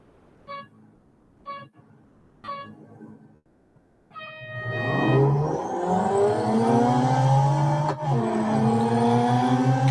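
In the Real Racing 3 mobile racing game, three short horn-like beeps of a start countdown are followed by a long tone, then a race car engine roars and revs loudly, climbing through gears with a brief dip at a shift.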